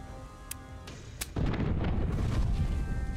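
Cannon fire from a pirate ship in Tortuga: A Pirate's Tale, shooting over its own vessel; a few sharp cracks come first, then a loud, deep, rumbling barrage of booms runs to the end.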